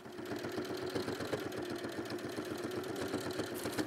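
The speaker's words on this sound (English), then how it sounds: "So again, just top stitching over the uh, seam there." A sewing machine topstitches over a trouser seam, its needle running in a steady, rapid rhythm that stays close and even throughout with no voices.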